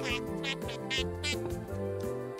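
A cartoon duck quacks in a quick repeated series over bouncy background music in a children's animated show.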